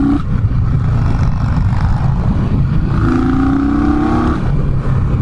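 An Indian Scout Bobber motorcycle fitted with a slip-on exhaust rumbles loudly close by on a ride, its engine note rising and falling with throttle changes under steady wind rush.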